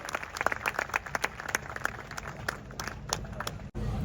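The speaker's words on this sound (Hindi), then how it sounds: "आप सभी की तालियां बिल्कुल बजती रहनी चाहिए एवरीवन।" An audience at a sound union meeting applauds, scattered sharp claps over a steady crowd wash, fairly close, ending abruptly into a low hum.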